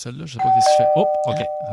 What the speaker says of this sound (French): c'est la sonnette, ça.